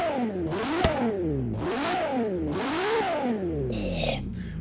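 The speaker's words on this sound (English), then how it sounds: "Ferrari's signature dish right there, man. Fucking V12 engine." A LaFerrari V12 in Forza Horizon 3 on a downhill run, its engine note climbing and dropping through repeated rev sweeps as gears change, loud and close, with a brief clatter near the end.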